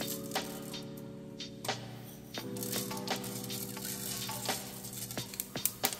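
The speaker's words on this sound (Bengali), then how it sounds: "তেলটা গরম হয়ে উঠলে এর মধ্যে দেব আমি ফোড়ন হিসাবে লাল পাকা মরিচ এবং 5 ফোড়ন" Red chillies and five-spice seeds frying in hot oil for a moringa chutney, a faint steady sizzle broken by sharp crackles and pops that grow denser toward the end.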